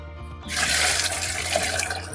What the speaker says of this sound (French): je vais mettre ma casserole d'eau de cuisson